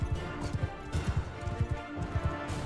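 Horse hooves gallop in Mount and Blade Bannerlord, a quick rhythmic clatter of repeated hoofbeats in bursts, heard fairly close amid a low battle ambience.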